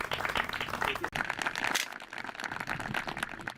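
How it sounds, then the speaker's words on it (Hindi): A studio audience at a farmers' quiz show applauds a farmer winning a prize, a steady, moderately quiet patter of many hands lasting a few seconds. "जोरदार तालियां इनके लिए बजाइए"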